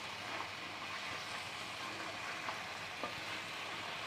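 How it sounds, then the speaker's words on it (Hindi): Potatoes fry and get stirred in a pan for an aloo salan, making a soft, even sizzle at low volume with a few faint clicks from the stirring spoon and no voices. "आप अच्छी तरह मिक्स करें"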